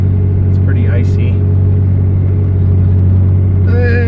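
A 12,000-pound truck carrying a Northern Lite 9-6 LE camper climbs an icy, rutted, snowy Montana mountain road, its engine droning steadily and loudly throughout, with brief squeaks and rattles on top.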